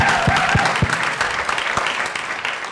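Audience applause at an artist-in-residence launch event, steady dense clapping from a crowd held at a fairly loud, even level throughout with no talk over it.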